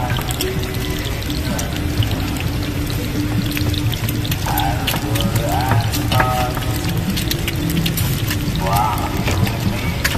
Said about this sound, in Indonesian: Dibolak-balik ya telur itunya.